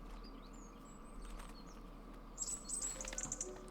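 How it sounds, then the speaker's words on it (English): Birds in the video game Botany Manor chirp in a few quick, bright bursts over a quiet, steady ambient hum, fairly faint and without talk. "Oh boy, noisy birds."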